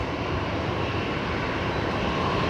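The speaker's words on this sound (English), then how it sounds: "Right, Jetstar, the 787 heading off next." A Jetstar Boeing 787 bound for Osaka takes off at Brisbane Airport, a broad steady engine roar filling the air at constant strength, with no voices.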